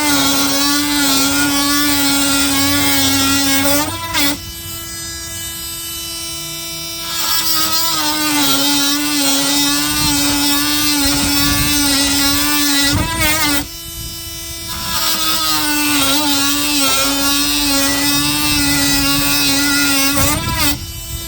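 A Milwaukee M12 Fuel oscillating multi-tool cuts with a worn blade, its loud, buzzing whine running steadily in three long passes broken by brief pauses.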